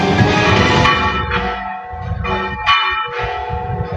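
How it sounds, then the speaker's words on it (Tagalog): Church bells of Holy Trinity Parish in Loay, Bohol ring out loudly for Easter, overlapping strikes with long humming tones that decay between hits, resonant and close. "Pinatunog ng kampana ng Holy Trinity Parish sa Luway, Bohol sa pagdiriwang ng Pasko ng Pagkabuhay."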